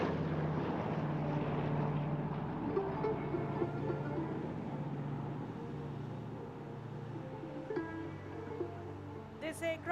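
Propeller-driven transport aircraft flying a display pass at the Aero India air show 2021, a steady droning engine hum that stays loud throughout, with a spoken commentary over the public address.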